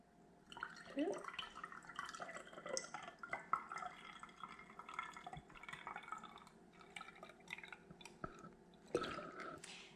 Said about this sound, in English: So now to our fermented water, we're going to add lemon juice, and this is about a 1/4 cup or so.